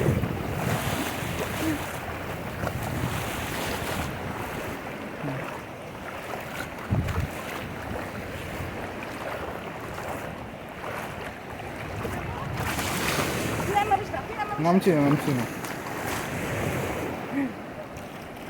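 Sea waves roll and wash at Bakkhali beach under strong wind buffeting the microphone, a continuous broad roar with surges, while people talk briefly nearby.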